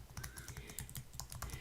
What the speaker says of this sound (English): typing in the website that I use for the full readings